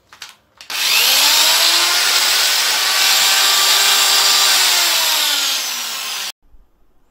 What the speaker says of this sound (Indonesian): Kemudian saya coba bor. Bor ini sekitar 300 watt.